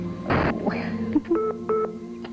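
Intercom tones buzz from a telephone in a short burst followed by several repeated electronic beeps, with a faint voice murmuring in the background.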